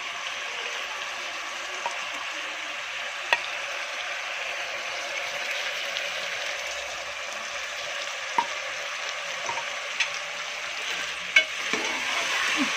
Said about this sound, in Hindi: इसको हम अच्छी तरह भून लेंगे मसाले को।